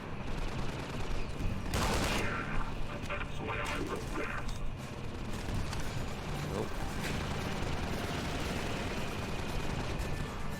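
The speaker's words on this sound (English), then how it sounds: "it shoots down rockets over the battlefield" Gunship in the video game Entropy Zero 2 firing to shoot down rockets over a battlefield: dense, continuous rattling gunfire and blasts fill the scene, with a sharper burst near the start, steady and loud throughout.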